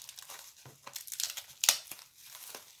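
Plastic crinkles and crackles close up in irregular bursts as wrapping is handled, with one sharper crunch partway through.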